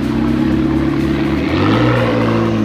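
A McLaren sports car parked at a night market in Mongkok idles loudly and close, its steady low engine drone shifting pitch slightly partway through, with no talk over it.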